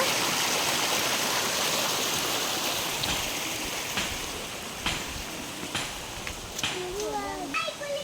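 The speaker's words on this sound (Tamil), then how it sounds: "ஸோ இது வந்து ஆர்டிஃபிஷியல் ஃபால்ஸ் கிடையாது, நேச்சுரலாகவே வரும்." Natural waterfall at a resort in Yercaud, Tamil Nadu, giving a broad, steady rush of falling water nearby, with a few faint voices and short knocks mixed in toward the end.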